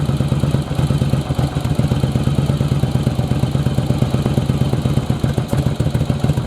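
A second-generation Yamaha Virago motorcycle engine idles low and close by, its even, rapid thumping pulse steady and loud throughout with no talking.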